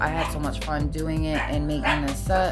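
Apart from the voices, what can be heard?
dog barking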